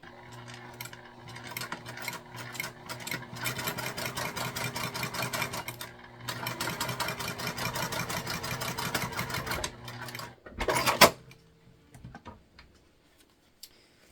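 A sewing machine runs in fast, even stitching over silky fabric for about ten seconds, pausing once, then stops after a few sharp mechanical clacks, close and moderately quiet.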